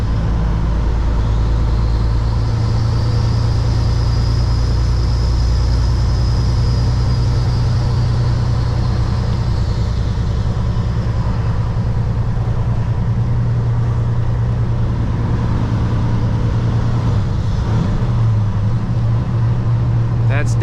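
A Kenworth W900 semi truck with an 18 speed transmission drones loudly and steadily while double clutching and downshifting, its low engine hum shifting in pitch partway through, with a voice talking over it.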